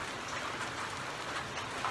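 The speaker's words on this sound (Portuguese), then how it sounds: "olha a chuva que tá, gente" Heavy rain pours down steadily as a broadband hiss with no distinct drops standing out, constant and fairly close, with no talking.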